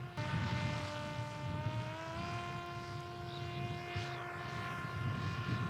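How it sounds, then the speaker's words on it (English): A small explosive-laden attack drone of the kind used in the war in Ukraine flies with a steady, high, buzzing propeller whine that holds a constant pitch over a wash of wind noise, fairly close and continuous throughout. "Then there are the attack drones, cheap, nimble and packed with explosives."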